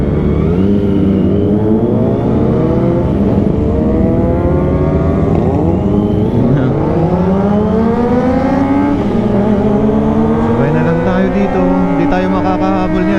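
A group of big motorcycles, including 1000cc, 650cc and 636 sport bikes, Harleys and a Kawasaki ZX25R, roar past close and loud on a ride in San Nicolas, Pangasinan, engines rising and falling through repeated hard accelerations.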